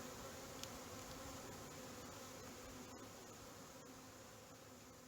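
Dense, constant buzzing of many honey bees in a hive, a low steady hum that stays even and close throughout, with no voices.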